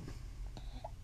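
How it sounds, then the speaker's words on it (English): A baby hiccups, a single short burst heard close by against low background rumble and a faint tone from the bath setting. "He has the hiccups."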